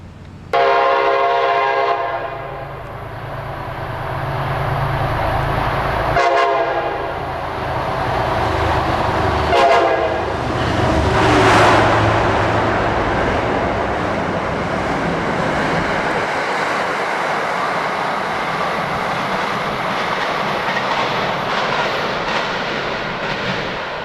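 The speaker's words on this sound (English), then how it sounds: "there is a train approaching, and it should be along here soon enough" An old Orange Line subway train approaches Forest Hills station at rush hour, its horn blasting loudly, then its rumble and wheel screech build into a long, roaring pass close by.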